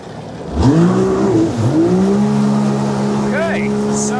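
A JetBlaster Pro jet ski engine rises in pitch as the craft pulls up into a wheelie, then surges and settles into a steady high whine, close and fairly loud, with water noise underneath.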